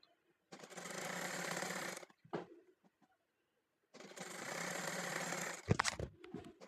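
A sewing machine stitching elastic onto children's pants runs in two fast, buzzing bursts of about a second and a half each, separated by a pause with light handling clatter, close and clear.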